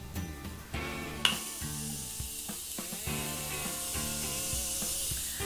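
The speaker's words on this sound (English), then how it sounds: "I'm going to use my Morphe Continuous Setting Spray" Morphe Continuous Setting Spray hisses out as a fine continuous mist, a soft close airy spray building after a few clicks and holding steady under faint background hum.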